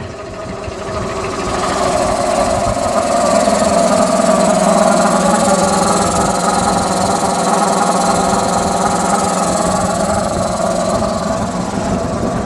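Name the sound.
1977 Superior/Ford B-700 bus engine idling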